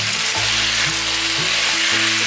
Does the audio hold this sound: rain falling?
no